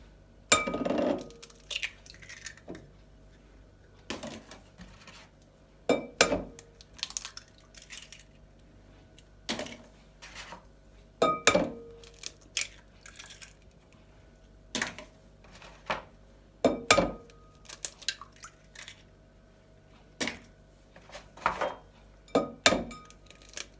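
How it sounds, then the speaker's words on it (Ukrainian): Six eggs cracked one after another into a bowl for a zebra cake, with sharp, well-spaced taps and clinks against the rim repeating through a quiet kitchen, no talking. "Беремо 6 яєць, розбиваємо їх."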